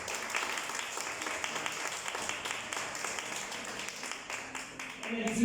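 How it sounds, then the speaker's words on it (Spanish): A church audience applauds graduates finishing a discipleship course, with continuous clapping of moderate volume spreading through the room and swelling toward the end. "Denle un aplauso a los que acabaron."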